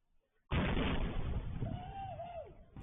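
Firework explosion on a quiet suburban Plum Canyon night: one sudden loud boom that rolls into a long rumbling decay, heard from nearby with no talk over it.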